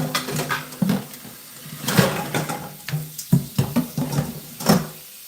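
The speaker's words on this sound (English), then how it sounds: "We're gonna get some dishes down in this water." Dishes clatter and knock in a sink of soapy dishwashing water, with irregular clinks and splashes close up and no talking.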